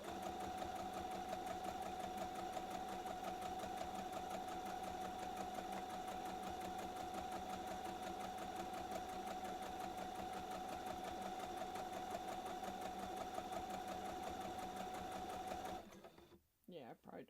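A sewing machine hums in one long, steady run while stitching a reversible bucket hat, then stops abruptly near the end, followed by a few brief handling noises.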